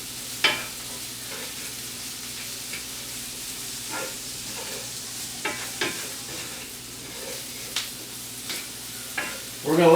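Vegetables sizzling in a pan ahead of a steak, kept slightly crisp, with a steady frying hiss and occasional clinks and scrapes of stirring.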